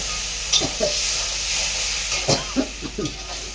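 Water hits a hot pan of cooking ridge gourd with poppy seed and sizzles in a steady, bright hiss of steam, broken by a few soft scraping knocks as the food is stirred.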